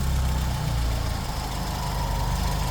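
A Volkswagen Golf GTI Mk2 engine idles low and rough at about 1,100 RPM, a steady rumbling drone heard up close with no talking.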